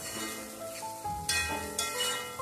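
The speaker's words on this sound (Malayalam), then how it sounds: "ഒന്ന് സോഫ്റ്റായിട്ട് ഇളക്കി മിക്സ് ചെയ്യുക." Poha (aval upma) gently stirred in a pan, with soft scraping and light sizzle and a couple of brighter clinks of the spoon against the metal, close and moderately quiet with no talk.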